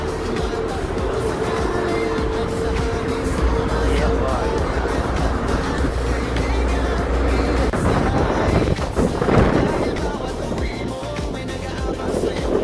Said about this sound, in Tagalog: Oh, lakas ang hangin, oh.